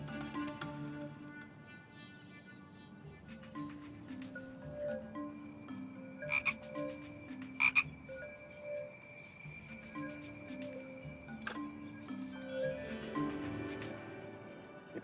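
A frog croaks in a string of close, distinct calls, layered over a steady bed of other tonal sound.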